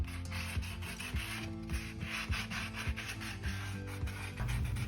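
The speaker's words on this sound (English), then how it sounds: "I'm just going to sand down a little bit of that rim so it's not so sharp with my nail buffing brushes." Continuous close rubbing and scratchy sanding strokes of a nail buffing brush against a hard eco resin rim, steady and moderately loud, with a low hum underneath.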